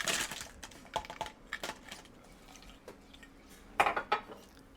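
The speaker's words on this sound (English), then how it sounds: "we're going to add some fresh ice." Fresh ice cubes clatter into a boba milk tea cup in a few quick bursts, with clinks and rattles near at hand and a louder cluster of clunks toward the end.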